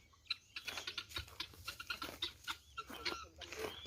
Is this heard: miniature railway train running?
no